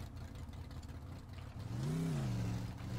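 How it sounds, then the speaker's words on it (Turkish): A car engine in the game Teardown revs up in a rising, then falling harmonic sweep after a stretch of steady mid-level engine drone, loud and close with no talk. "bak motorun sesini."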